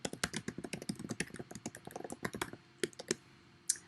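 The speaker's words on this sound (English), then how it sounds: "then I can type in an announcement." Fast, uneven typing on a computer keyboard as an announcement is entered, crisp close clicks in quick bursts with brief pauses and a few louder keystrokes toward the end, no voices.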